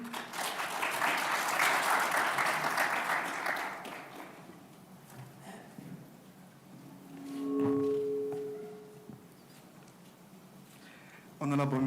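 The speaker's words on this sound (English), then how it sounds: "Round of applause for him." Audience applause at a national conference on special needs and inclusive education, a burst of steady clapping for about four seconds that fades out, followed by quieter room sounds and a brief tonal note.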